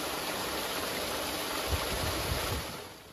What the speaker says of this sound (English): That's the sound of ponding happening on Simpson Street in Swoyersville.